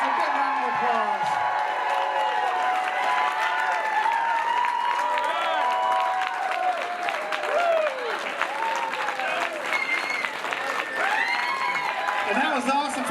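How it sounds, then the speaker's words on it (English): Audience applause mixed with cheering and whoops, a busy crowd clapping while voices and shouts rise and fall over the top, sustained and lively. "a big round of applause"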